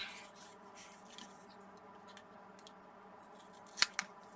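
Scissors snip through paper while making a flip flap book, quiet, close cuts with soft rustling, ending in two sharper snips near the end.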